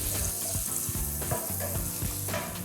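Garlic and pigtail fry in hot oil, making a loud, continuous crackling sizzle with periodic stirring scrapes and pops, close-up and free of speech.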